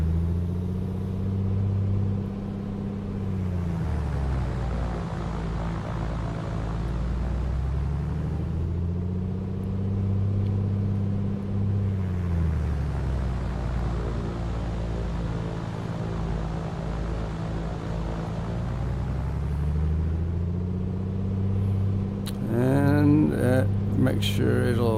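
Piper Comanche engine run-up in a VR flight simulator, a steady droning propeller hum that sags and recovers in pitch over several slow cycles, loud and continuous, ending with a brief whine of higher tones.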